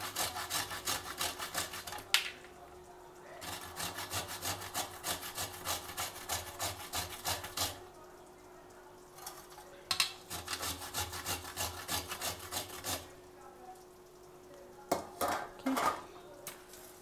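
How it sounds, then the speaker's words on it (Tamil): Nutmeg rubbed against a grater for masala chai powder, producing bursts of quick rhythmic rasping strokes separated by short pauses and a few knocks, close and fairly quiet with no talking. "இந்த ஜாதிக்காயை துருவி வச்சுருக்கேன்"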